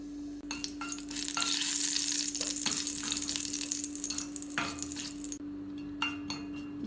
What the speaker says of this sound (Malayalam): നെയ്യ് ചൂടാവുമ്പോൾ ഇതിലേക്ക് 1/4 ടീസ്പൂൺ ചെറിയ ജീരകം ഇട്ട് ഫ്രൈ ചെയ്യാം